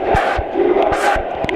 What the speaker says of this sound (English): Crowd is cheering USA